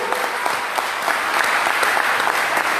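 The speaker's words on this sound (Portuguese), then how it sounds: "Você pode aplaudir a Jesus bem forte mais uma vez?" A church congregation applauds Jesus loudly during a family worship service, a thick, even roar of clapping from many hands that stays strong and unbroken throughout.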